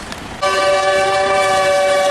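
Train horn sounding in Pacayas, Cartago, Costa Rica, a loud sustained multi-tone blast that starts abruptly after a short quiet moment and holds steady, close by.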